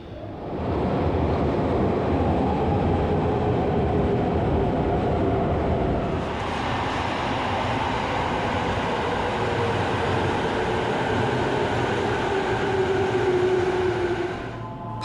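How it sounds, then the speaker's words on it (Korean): Inside an ordinary JR suburban commuter train near Narita Airport, a steady rumble and hiss of the carriage rolling along the rails continues throughout, with no talk. "이번엔 JR의 열차를 타고 이동해보도록"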